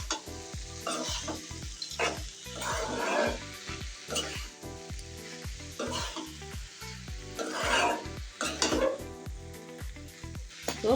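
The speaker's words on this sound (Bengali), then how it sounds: "ধনিয়া পাতাটা দিয়ে একটু ভালো করে নেড়ে চেড়ে মিশিয়ে দিই" Bottle gourd peel fries in a pan while chopped coriander leaves are stirred in, a constant close sizzle broken by repeated rhythmic spatula scrapes and knocks against the pan.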